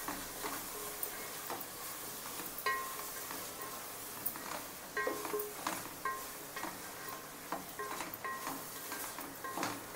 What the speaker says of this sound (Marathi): आता हे सर्व मसाले आपण तेलामध्ये चांगले परतून घेऊया।